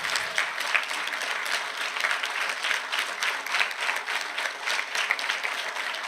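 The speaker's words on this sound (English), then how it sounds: "we're going to clap for you because of all the work you've done all summer" Parents clapping for volunteer teachers at a school orientation, a lively, continuous round of hand claps from a room full of people, close and fairly loud, keeping a fluttering even texture throughout.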